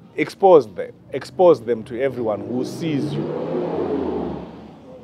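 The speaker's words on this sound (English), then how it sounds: "Just these big cars that people drive on," Big cars roll past beside a church, a steady broad engine wash building and holding after a man's speech ends, the traffic swelling and lingering as it passes close by.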